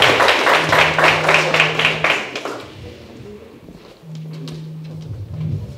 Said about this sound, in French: Alors, on continue à applaudir Monsieur Martial Bélam